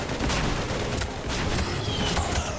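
Continuous heavy gunfire in the video game Mass Effect 3, a loud unbroken rattle of shots and booming impacts with no pauses, no voices over it.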